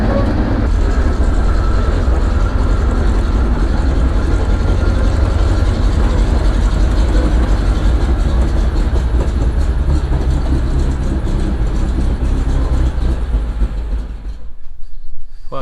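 A rare Swedish military vehicle drives along with its engine running smoothly, a loud, steady rumble with rattling clatter heard close up throughout before it cuts off abruptly near the end.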